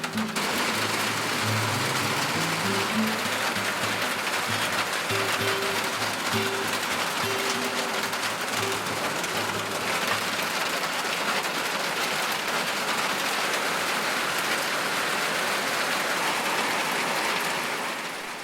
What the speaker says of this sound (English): Starting to rain pretty good.